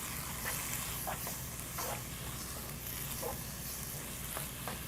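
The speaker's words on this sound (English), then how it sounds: "I just tossed a little bit of our sauce in there. Giving it a little stir." Zucchini noodles and sauce sizzle in a pan with a constant, crackling hiss, while a utensil scrapes and stirs at irregular intervals, close and fairly quiet, with no talking.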